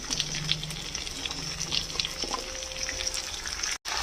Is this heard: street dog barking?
no